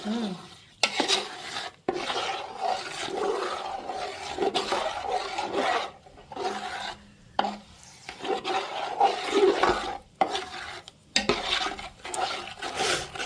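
Mohanthal sweet mixture stirred in a pan in a village kitchen, a spoon rasping and scraping in long continuous strokes with brief pauses, close and fairly loud, no talking.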